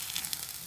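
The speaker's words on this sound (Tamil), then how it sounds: "இப்போ இதையும் நல்லா வதக்கிக்கலாம்." Steady, soft sizzling of ginger, garlic and green chili frying in a hot pan, a continuous crackling hiss with no voices.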